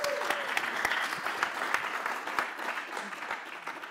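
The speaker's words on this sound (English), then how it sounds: "Another round of applause." A conference audience at a blockchain expo's closing remarks claps steadily for about four seconds, a dense mid-level patter of many hands with a few louder individual claps standing out.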